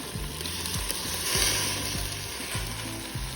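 Lamb meat browns in a stew pot with a loud, steady sizzle, while a spoon knocks against the pot at a slow, irregular rhythm.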